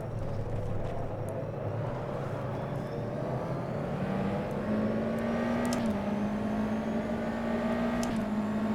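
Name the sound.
USF2000 race car engine from video game rFactor 2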